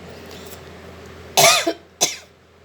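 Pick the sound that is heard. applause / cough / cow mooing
cough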